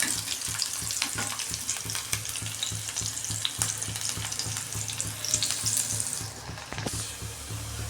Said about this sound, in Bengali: প্রথমে আমি তেলের মধ্যে 2 চামচ তেলের মধ্যে পেঁয়াজটাকে একটু ভেজে নেব